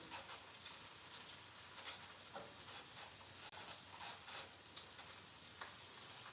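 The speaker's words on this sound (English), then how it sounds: "Sauteing onions, sauteing the garlic a bit." Onions and garlic sautéing in a pan, a faint, steady sizzling crackle with a few brief pops, quiet and continuous throughout with no talking over it.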